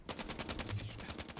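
Rapid gunfire in the Halo 5 beta video game, a dense run of loud, evenly spaced shots crackling without pause for the whole moment, with no voices over it.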